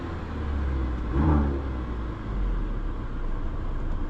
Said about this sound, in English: Let's see how this 4-cylinder sounds.